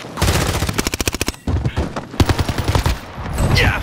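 Rapid bursts of automatic gunfire from a Fortnite-style battle royale endgame ring out loud and close, with fast rhythmic volleys, short pauses, then more sustained shooting.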